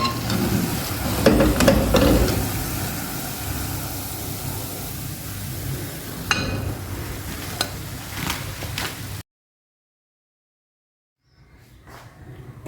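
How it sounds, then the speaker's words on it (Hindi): Potato and spinach pakoras fry in hot oil with a steady dense sizzle and some stirring clatter, close, before the sound cuts to near silence near the end. "पकोड़े हमारे फ्राई होना शुरू हो गए और ये ऊपर की तरफ आ चुके हैं"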